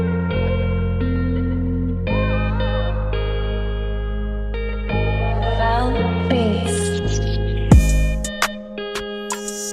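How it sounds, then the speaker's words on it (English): A produced beat from Spain with a detuned electric guitar playing effects-laden chords over deep bass notes, heavy echo and chorus, steady rhythm, ending in a sweep and scattered hits. "Yeah, that guitar is out of tune."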